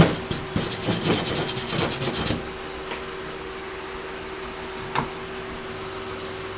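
Scraping and rasping on freshly laid stick welds to knock off slag, a dense gritty rubbing for about two seconds, then quieter background hum with one sharp tap midway, close and without talk.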